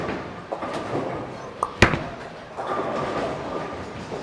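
A bowling ball rolls down the lane with a low rumble, then strikes the pins in one sharp, loud crash, followed by rolling and clatter in a bowling alley.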